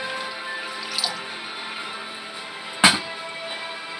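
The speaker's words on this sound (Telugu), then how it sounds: "ముందుగా ఒక కళాయి తీసుకొని దాంట్లోకి ఒక 2 గ్లాసెస్ వాటర్ అయితే పోసేసుకోండి." About two glasses of water pour into a kadai pan in a home kitchen, a faint, steady trickle with a brief sharp knock near the end and no talking.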